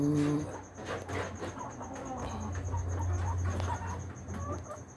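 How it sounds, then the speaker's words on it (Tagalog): Rooster in a backyard poultry coop giving a short cluck at the start, with a steady chorus of insects chirping throughout and other fowl faintly in the background. "yan yung rooster natin"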